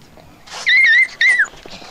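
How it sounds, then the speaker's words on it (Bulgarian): A small dog gives two high, wavering whimpers in quick succession, loud and close, with a short pause between them. "Ето и малкото куче."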